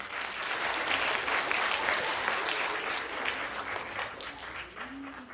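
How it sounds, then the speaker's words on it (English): A middle school audience at a youth summit applauds student presenters with sustained, dense clapping that holds steady for several seconds before thinning slightly, with a voice briefly audible near the end. "Clap it up for them."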